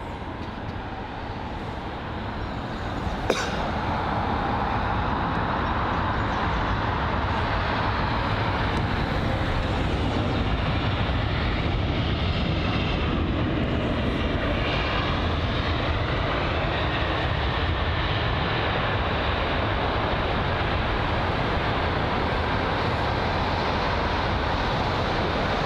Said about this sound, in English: Some info on that aircraft that has just arrived. So it is the British Airways A321neo, new engine option